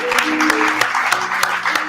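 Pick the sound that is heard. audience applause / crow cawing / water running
audience applause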